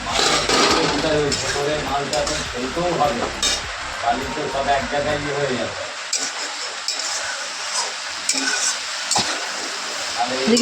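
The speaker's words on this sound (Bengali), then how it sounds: "দেখো তরকারি বসিয়ে দিয়েছে বটবটি আলু বেগুন পটল তারপরে কুমড়ো সব কিছু দিয়ে" A Bengali vegetable curry of potato, eggplant, pointed gourd and pumpkin sizzles in a pan while being stirred, with scraping and clinking of the spoon; the frying fades midway, leaving lighter stirring sounds, and people talk over it.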